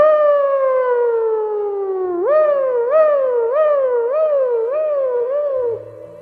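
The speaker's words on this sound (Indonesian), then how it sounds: "betul ambulan pun berangkat dari sana untuk mengangkut Plentus yang kesakitan" An ambulance siren sweeps down in one long wailing tone, then warbles up and down in a quick repeating rise-and-fall before cutting off.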